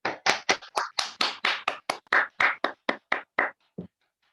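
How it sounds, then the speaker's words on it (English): A festival audience at WinchesterFest claps for Rachel Lewis after her set: a run of about sixteen distinct, evenly spaced claps that thin out and stop near the end, with no voices. "please, a massive, massive round of applause for Rachel"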